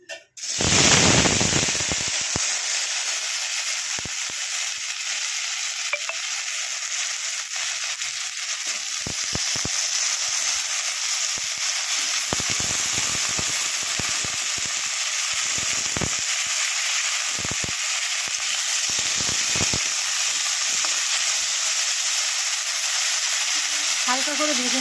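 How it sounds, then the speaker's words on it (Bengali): Potatoes hit hot oil in a wok and set off a loud, steady sizzle that holds unbroken for the whole stretch, with a few faint scrapes of stirring beneath it. "তেলের মধ্যে আলুগুলো ছেড়ে দেবো।"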